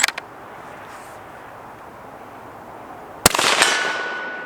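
A Savage Axis rifle in 300 Blackout fires a single sharp, loud shot at a steel silhouette target, followed by a brief ringing tail; outdoor hiss fills the quiet before it.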